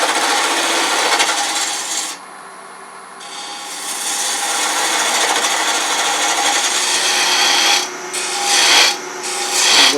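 A walnut box lid spinning on a wood lathe while a tool cuts it, giving a loud continuous scraping, rasping whir that dips briefly and returns, close and without talk.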